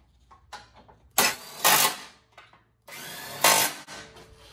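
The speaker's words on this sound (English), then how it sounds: "now I can go ahead and tighten these down with a 15mm socket" A socket tool tightens the intercooler mounting bolts with a 15mm socket on a Fiat 500 Abarth, two short bursts of whirring ratchet or driver noise separated by quiet handling clicks, close up.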